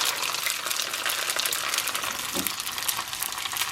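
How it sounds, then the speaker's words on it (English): Food fries in hot grease with dense, continuous crackling and sizzling hiss, steady and close, with no talking. "Just be careful of splattering grease."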